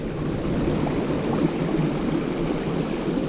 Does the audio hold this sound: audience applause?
no